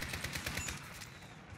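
Gunfire from the AX50 in the video game Call of Duty, heard as a dense, continuous rattle of shots at moderate loudness with no break.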